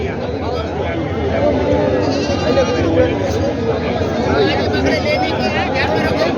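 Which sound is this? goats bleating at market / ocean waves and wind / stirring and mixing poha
goats bleating at market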